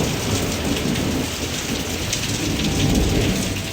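A steady, heavy rain pours and patters on surfaces nearby, with a low rumble of thunder underneath. The hiss stays constant throughout and no one speaks.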